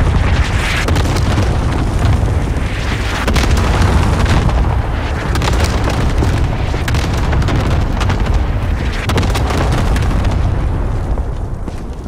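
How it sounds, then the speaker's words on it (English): Heavy airstrike explosions from close air support in the Warzone video game, a dense barrage of deep booms and blasts rumbling loudly and continuously for the whole stretch with no voices over it. "I need close air support on this target."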